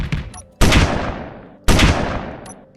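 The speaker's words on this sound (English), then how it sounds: "Pilot seat has control over the main cannons" Two heavy cannon blasts from the main guns in Space Engineers, each a sudden loud boom with a long decaying tail, about a second apart, with a fainter shot just before.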